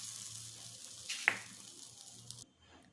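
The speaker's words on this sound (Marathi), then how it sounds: "छान अशी फोडणी द्यायची।" Cumin, mustard seed and asafoetida temper in hot oil, giving a faint, steady sizzle with a brief sharper crackle midway before it quiets down.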